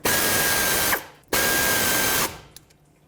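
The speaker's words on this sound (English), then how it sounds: "Grab a wrench or a socket and tighten this." A socket tool buzzes in two loud, even bursts of about a second each, with a short pause between them, as it tightens an 11mm banjo bolt on the front brake caliper of a 2003-2008 Toyota Corolla.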